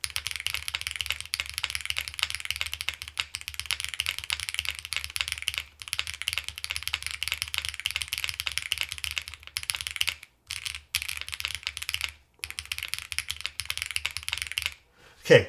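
Fast, continuous typing on a Xenox mechanical keyboard with HMX Hydra roller switches, close and clacky, running steadily with brief pauses near the end.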